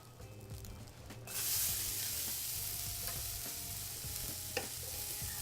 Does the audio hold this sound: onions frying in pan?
yes